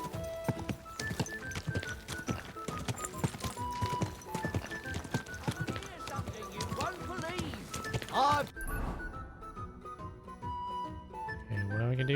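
Horse hooves in the game Kingdom Come: Deliverance II, a continuous clip-clop of galloping beats under game music, with a voice talking alongside, the hoofbeats fading as the music carries on.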